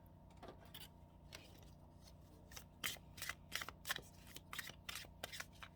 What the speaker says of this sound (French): Une carte qui s'est retournée